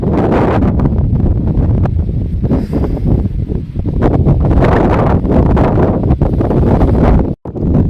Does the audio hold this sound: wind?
yes